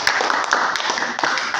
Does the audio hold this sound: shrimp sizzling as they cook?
no